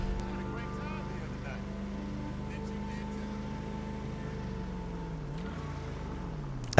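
An Enus Windsor Drop convertible cruises in GTA Online with a steady low engine drone and a faint shift in pitch near the end, while speech runs over it.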